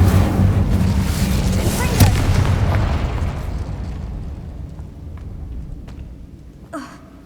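In the video game Hogwarts Legacy, an Incendio fire spell erupts as a loud, dense roaring burst that rumbles for several seconds and slowly fades, with a short sharper crackle near the end.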